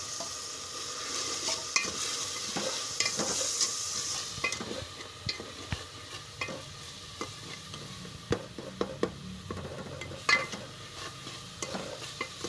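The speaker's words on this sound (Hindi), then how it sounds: "इसे हम 1-2 मिनट तक ऐसे ही भून लेंगे ताकि जो हमारी मिर्चें वगैरह है वो कच्ची ना रह जाए" Masala with salt, turmeric and chilies frying for a potato and egg curry, a low sizzle under scattered spoon scrapes and taps against the pan that quicken toward the end, close and without talk.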